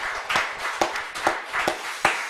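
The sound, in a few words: congregation applause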